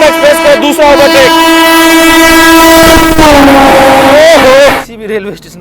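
An express train passes close by while overtaking at a station on the Meerut to Subedarganj route, a loud sustained horn blast over rumbling wheels that bends in pitch near the end, then cuts off, with a voice heard alongside.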